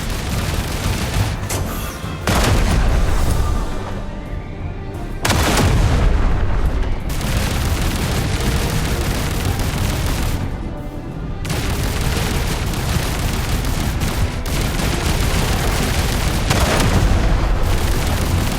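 Gunfire and explosions in the video game Duet Night Abyss: dense continuous volleys of shots and heavy booms, loud and sustained, broken by a few short drops into quieter gaps.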